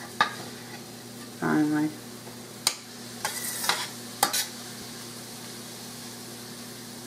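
Marinara sauce with garlic cooks in a pan, a quiet steady sizzle with a few spoon scrapes and stirring knocks, and a brief spoken word partway through.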